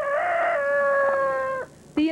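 A rooster on a working farm with cows and sheep gives a long, loud, clear crow, then a short second call after a brief pause, heard alone.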